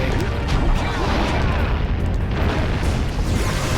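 A boulder is shot in the Jak and Daxter video game, giving heavy booming, crashing impacts and a rumbling burst in a loud, continuous game mix with some speech over it.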